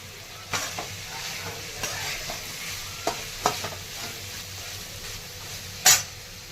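Masala spices tipped into a hot frying pan sizzle steadily while a spoon stirs and scrapes, with a few sharper clinks and a louder knock of utensil on pan near the end, close and without talk.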